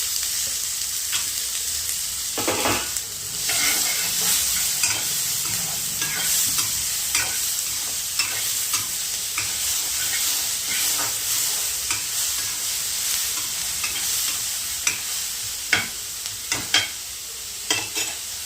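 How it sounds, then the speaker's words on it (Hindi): Tomatoes, onion and green chillies fry in a pan for poha with a loud, continuous sizzle, while a spoon stirs and scrapes in irregular strokes, growing more clattery toward the end. "मैं इसमें डालूँगी टमाटर, प्याज और हरी मिर्च।"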